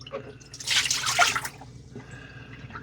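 The dirty-water tank of a Dreame Aqua 10 Ultra Roller robot mop is emptied, giving a brief close splash and gurgle of pouring water that fades to faint drips.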